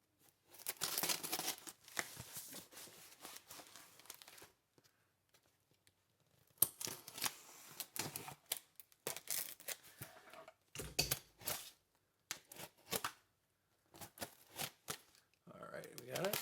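Tape being torn and cardboard crinkled while a taped box holding a Smiger concert ukulele is opened, with bursts of ripping, scraping and rustling broken by short pauses, close to the mic.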